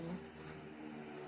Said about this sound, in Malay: bunyi background motor kereta yang bising kat belakang tu